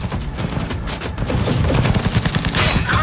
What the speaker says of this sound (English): Fucker's shooting at me with my own gun.